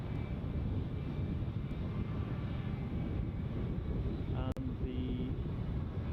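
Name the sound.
Airbus A319 bound for Mykonos taxiing out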